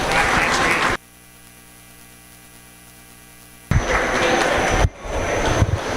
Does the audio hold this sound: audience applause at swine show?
yes